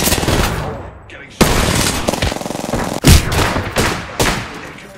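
Rapid automatic gunfire in Apex Legends, dense close bursts with short gaps and sharp onsets, loud and continuous, with a game voice speaking briefly over it.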